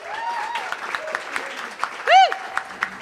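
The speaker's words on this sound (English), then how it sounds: "one more round of applause" An audience at a comedy show claps in a scattered round of applause, fairly close, with a whoop rising over the clapping and voices heard amid it.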